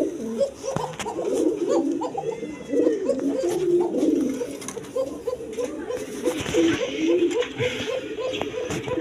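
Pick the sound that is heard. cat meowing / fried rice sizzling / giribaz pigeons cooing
giribaz pigeons cooing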